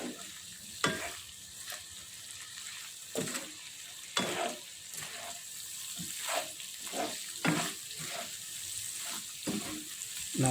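Purple eggplant with chicken gizzard and liver stir-fried on a stove, a constant close sizzle broken by repeated scraping stirs of the spatula at an uneven rhythm, with no talking.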